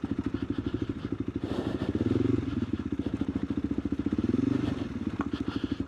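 Dirt bike riding a trail of loose, shifting rocks at Turkey Creek, its engine chugging in a steady pulsing rhythm close by, with brief surges and faint clatter from the tires over the stones.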